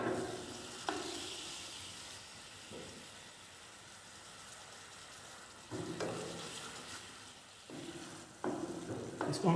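Ingredients with sauce sizzling in a pan on low flame, a soft steady frying hiss broken by occasional stirring scrapes and louder bursts, close but fairly quiet.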